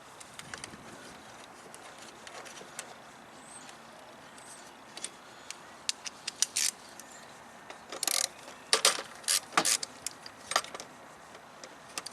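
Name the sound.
10mm ratchet loosening airbox bolts on 2008 Honda Civic Hybrid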